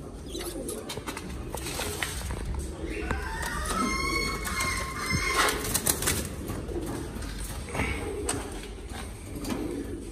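Caged pigeons cooing repeatedly at close range over a dense background of birds, with some wing flaps and thumps, while a person talks.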